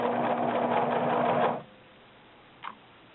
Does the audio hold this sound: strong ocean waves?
no